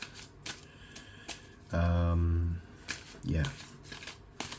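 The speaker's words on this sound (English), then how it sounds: "So I'll give this a nice shuffle" A deck of playing cards gets a quick riffle shuffle, a short fluttering burst of close, crisp card snaps with a brief voice nearby and light handling clicks around it.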